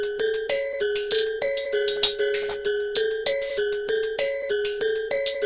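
Crisp hi-hat ticks run in a fast steady pattern over a looped, chopped sample of a track, the bright melodic figure repeating underneath with no voices.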